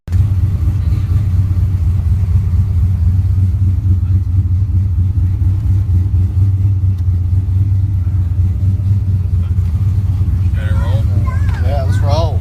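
Fox body Ford Mustang V8 running with exhaust cutouts open, a loud, steady, deep rumbling drone that fills the whole stretch, with a voice briefly heard over it near the end.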